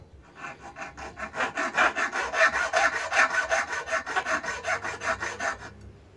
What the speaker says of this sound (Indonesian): Saya akan mencoba memotong besi hollow ini ya menggunakan gergaji besi.